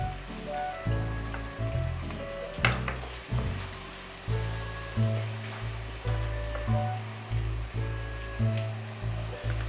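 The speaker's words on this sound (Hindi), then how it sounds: "इस टाइम मैं इसमें स्लाइसेस में कटी हुई प्याज शामिल कर रही हूँ।" Sliced medium onions sauté in a pan with a low hiss and repeated rhythmic scrapes of stirring, moderately quiet and close.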